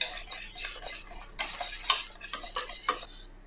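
Flour tipped all at once into water in a saucepan off the heat, stirred with a utensil that scrapes and taps the pan in quick, uneven strokes, close and fairly quiet, with no talk.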